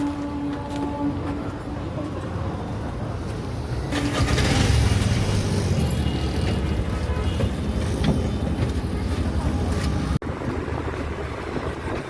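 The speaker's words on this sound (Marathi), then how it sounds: "तर मंडळी आम्ही आता रिक्षा पकडून मंदिरात चाललो आहे" An auto rickshaw engine rumbles and rattles steadily through a ride in Titwala, with wind noise and surrounding traffic, growing louder partway through.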